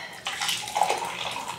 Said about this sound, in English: use the hot water.